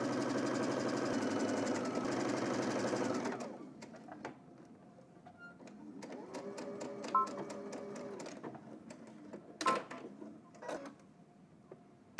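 A sewing machine stitches a seam on jersey fabric with a steady, continuous whirring hum for about three seconds and then stops. Quiet clicks and handling sounds follow.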